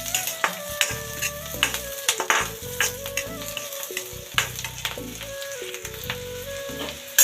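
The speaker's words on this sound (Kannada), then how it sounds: "ಹಸಿಮೆಣಸನ್ನು ಹಾಕ್ತಾ ಇದ್ದೇನೆ" Green chillies frying in a pan for green chicken sambar: a close, continuous sizzle broken by repeated sharp clicks and scrapes of stirring, with no talking.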